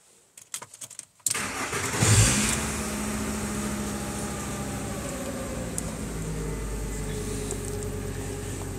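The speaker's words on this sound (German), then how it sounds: "Also, wenn ich den Wagen anmache." A 1995 VW T4 van with an ACU engine, which has a fault that makes it stutter and stall when warm, cranks with a few quick clicks and whirs, catches, and settles into a steady close idle.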